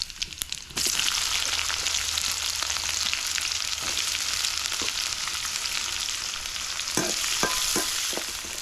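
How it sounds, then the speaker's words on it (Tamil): Two dried red chillies and onion hit hot oil in a pan for banana-flower poriyal, bursting into a loud, steady sizzle after a brief moment of quiet, with occasional clinks of a stirring utensil near the end. "வெங்காயம் எண்ணெயிலே வந்து நல்லா வந்து வதக்கட்டும்"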